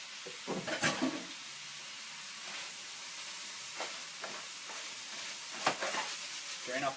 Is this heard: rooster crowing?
no